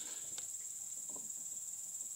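Steady high-pitched cricket chirping fills the background continuously, with a couple of faint clicks and no voices.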